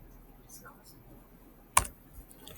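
A single sharp keypress on a computer keyboard, pressing Enter during a Windows system configuration task, lands as one crisp click against a faint room hiss.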